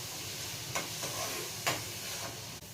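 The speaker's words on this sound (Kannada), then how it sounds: "ಸ್ವಲ್ಪ ಹಸಿ ಸ್ಮೆಲ್ ಹೋಗೋವರೆಗೂ ಸ್ವಲ್ಪ ಬೇಯಿಸ್ಕೊಳ್ಳಿ" Low steady sizzle of chopped vegetables frying in a pan for veg fried rice, with a couple of soft spatula stirs and scrapes over the constant hiss, no talking.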